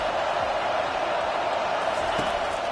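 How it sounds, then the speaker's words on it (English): Stadium crowd roaring steadily in the College Football 25 video game during a third-down play, a dense, continuous wash of noise that holds level throughout with no clear individual voices. "this crowd is tearing the lid off this place"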